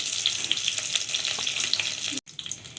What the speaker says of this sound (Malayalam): ഇനി നമുക്ക് കറിവേപ്പില ഇടാം, അതൊന്ന് ചെറുതായി മുക്കട്ടെ.